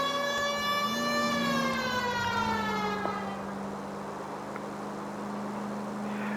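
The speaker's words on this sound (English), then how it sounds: "Whenever the game turns on the siren, I always turn it off because it's loud and annoying" Police car siren from the L.A. Noire video game, a loud wailing tone that sweeps up and down, then cuts off partway through and leaves a steady low engine hum.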